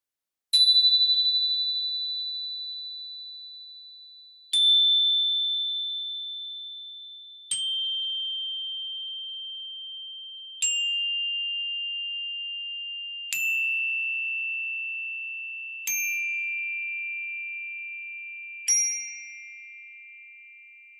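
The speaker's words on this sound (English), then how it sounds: "just hear and feel these chimes as I play them" Chimes are struck one at a time, seven clear ringing tones descending in pitch, each decaying slowly in quiet surroundings.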